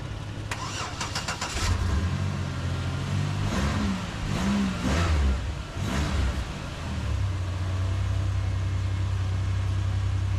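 A 2006 Chevrolet Impala is jump-started from a Tacoma battery: rapid starter cranking, then the engine catches with a couple of revs and settles into a steady, close idle.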